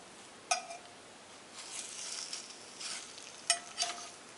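French toast seasoned with cayenne pepper fries in a cast iron pan, giving a steady soft sizzle broken by two sharp metallic clinks of a spatula against the pan, with no one talking.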